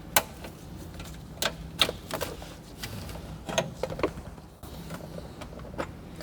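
Plastic wiring harness connectors being unclipped behind a Toyota Camry radio, with scattered small clicks, snaps and rattles of plastic, fairly faint and close.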